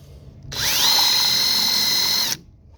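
A cordless drill whines at high speed for about two seconds drilling out a rivet on a canoe, close and loud, starting abruptly and cutting off just as sharply.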